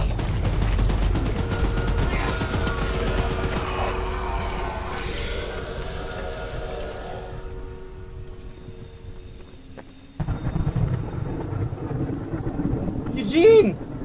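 Mounted gun in the game Choo-Choo Charles fires in a steady, loud rapid burst at the monster Charles, slowly fading as it overheats, then a sharp mechanical sound and a rising whine near the end; excited voices shout over it.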